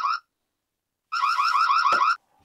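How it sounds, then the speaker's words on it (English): A Dzees wireless doorbell camera sounds its tamper alarm when moved: a short electronic warble, a pause, then a longer loud pulsing siren burst that stops abruptly. "There is an alarm button on the back if it gets moved, as you can see"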